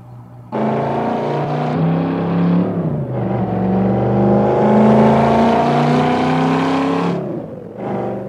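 A 2002 Chevrolet Camaro SS V8 rumbles loudly outside, starting abruptly and revving up with a rising pitch before dropping back, then a brief second rev at the end; no talking.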